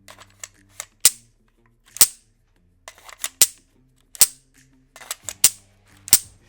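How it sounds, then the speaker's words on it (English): A magazine is inserted into and released from a NEMO Mongoose pistol-caliber carbine, producing a string of sharp metallic clicks and snaps, several crisp loud impacts among smaller rattles, close up with no talking. "whenever you are putting in that mag or releasing it, it is very satisfying"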